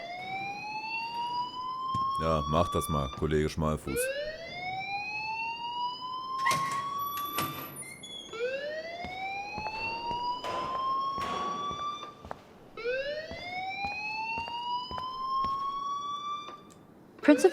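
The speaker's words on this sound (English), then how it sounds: "please turn off that alarm since that's your job" An electronic alarm in the video game Life is Strange, its rising siren-like sweeps repeating over and over at a loud, steady level while someone speaks German over parts of it.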